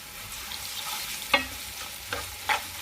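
Ginger paste hits a pan with chilies and cumin for Hyderabadi bagara rice, a low steady sizzle broken by a few sharp spoon scrapes and stirring clinks.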